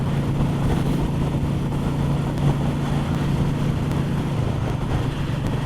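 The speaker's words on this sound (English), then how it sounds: "the engine just sounds nice when you accelerate away" Royal Enfield Meteor 350 single-cylinder motorcycle engine, a steady loud low thump with rushing wind noise, close and continuous throughout.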